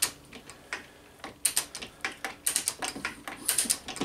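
A lathe feed ratchet mechanism on a Myford lathe clicking as it is fed, sharp close clicks in irregular clusters with short pauses between, no talking.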